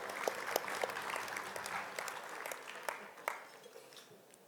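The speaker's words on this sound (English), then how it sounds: "How about a big round of applause for Dukeman?" A short round of applause breaks out in the room at an awards dinner, moderate and fairly distant, with scattered sharper claps standing out before it thins toward the end.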